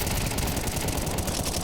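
A rifle sprays in Counter-Strike 2 during a pro match: dense, continuous automatic gunfire fills the clip with rapid overlapping shots, loud and with no voices.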